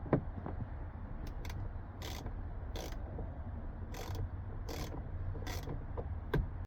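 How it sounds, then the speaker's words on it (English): A T15 Torx driver backs screws out of a 2025 Jeep Gladiator's interior panel, giving repeated ratcheting clicks in short, evenly spaced bursts, close and quiet against a low background hum. "So you need a T15 to take out 2 screws that are up here."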